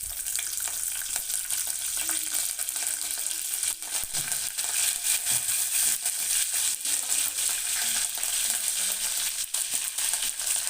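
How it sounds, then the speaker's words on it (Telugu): Cumin, mustard seeds and curry leaves temper in hot oil, giving a steady, close frying sizzle with faint crackles and pops that lasts the whole time and carries no voices. "జీలకర్ర ఆవాలు కొంచెం వేసాను."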